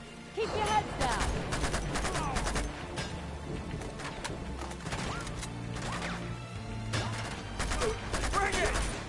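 Gunfire erupts in an Uncharted: Among Thieves gunfight, with repeated loud shots and crashing impacts spread through the scene, heavier bursts near the start and end, while game voices shout over a tense music bed.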